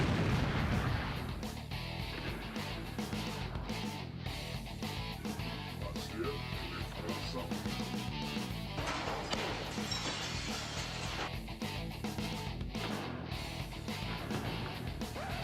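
Hammers and baseball bats smash objects in a rapid, irregular series of hard cracking impacts and crashes, fairly loud and continuous throughout.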